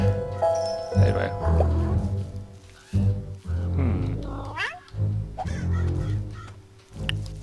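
A cat meows repeatedly in a video game, giving several drawn-out, wavering, fairly loud cries in close succession, with a few other game sounds mixed in.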